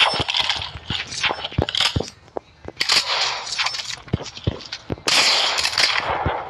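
Sniper rifle shots in a video game, a string of sharp, close cracks scattered through the stretch with brief gaps, some landing in quick pairs, over busy game noise.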